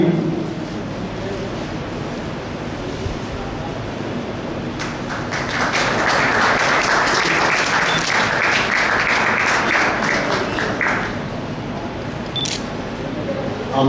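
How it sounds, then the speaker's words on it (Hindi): Welcome applause from a seated audience at a Hindi public gathering, a broad wash of clapping swelling in the middle and lasting several seconds before tapering off, over a murmuring hall. "और आप तालियों के साथ सहयोग करेंगे स्वागत में"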